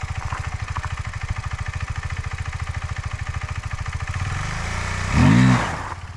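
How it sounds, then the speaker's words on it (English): A KTM 390 Adventure single-cylinder engine pulses steadily off-road, its power sagging as traction control cuts throttle to stop rear-wheel slip, then a short louder rev swells near the end. "you can immediately hear and see that my engine lost power as the MTC intervened, reducing throttle input to prevent wheel slip"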